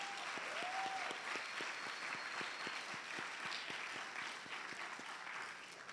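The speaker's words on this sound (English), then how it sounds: "let's go ahead and give a round of applause to Mr." A school audience at an all-school orientation applauds the absent headmaster, Mr. Buckles, with steady, moderately quiet clapping from many hands, a few individual claps standing out sharply, lasting about six seconds.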